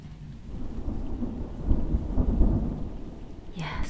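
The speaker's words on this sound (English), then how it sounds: "But soon thunder will be away, and only the soft sounds of rain will remain." A stormy night brings low, rolling thunder that swells and fades over steady rain, with a brief rustle near the end.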